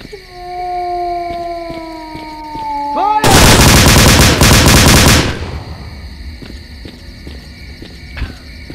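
Tank-mounted machine gun in STALKER: Clear Sky, a dense, loud two-second burst of rapid automatic fire, preceded by a long wavering howl-like tone and followed by faint scattered clicks.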